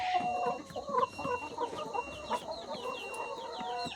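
Laying hens cluck and chatter busily inside an integrated poultry farm shed, a dense chorus of overlapping short calls close by, with a faint steady hum behind.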